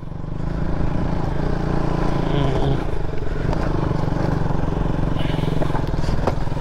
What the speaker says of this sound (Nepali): मेरो बाइकको कोन बेरिङ ढक ढक गरिसक्यो